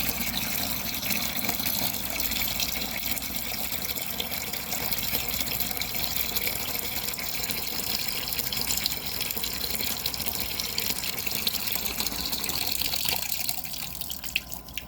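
Water pours out of a water vending machine under repair in a steady rushing stream, loud and close, with no break until it eases slightly at the very end.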